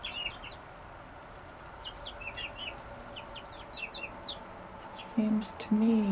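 A hen clucks softly among newly arrived baby chicks in their new home, with faint chirps scattered through low background noise and a couple of louder clucks near the end.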